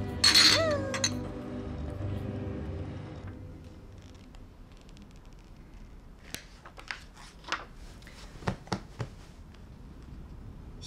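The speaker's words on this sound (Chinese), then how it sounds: "干杯！" Glasses clink together in a celebratory toast among friends indoors, a cluster of sharp, bright taps early on and several more separate clinks scattered later over a quieter room background.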